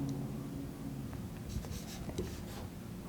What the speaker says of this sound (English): Next, I'm supposed to write the values.